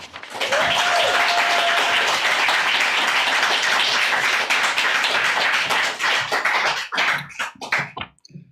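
An audience at a CalArts literary reading breaks into sustained, loud applause to welcome a reader, dense clapping filling the room for several seconds before thinning out into scattered final claps.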